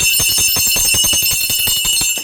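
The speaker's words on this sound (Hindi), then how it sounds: "तो यहाँ पे हम घंटी को बजा लेंगे।" Temple bell rung rapidly during a prasad offering to Bihari ji, loud and close, with a fast regular train of metallic strikes over a bright sustained ringing tone.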